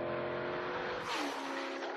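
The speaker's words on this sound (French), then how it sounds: "il met les gaz" A Marcos sports car accelerates hard at full throttle on a track, its engine a loud, sustained roar whose pitch climbs as it revs, heard close and alone without talk.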